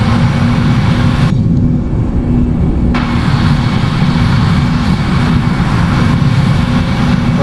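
Airbus A320 engines in a flight simulator game spooling up to takeoff thrust, a loud continuous roar with a steady low hum that barely changes across the whole stretch, no voices.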